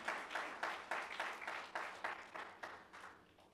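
A church congregation claps together in a fairly steady rhythm, about three claps a second, sounding faint and somewhat distant, with the beat easing off toward the end.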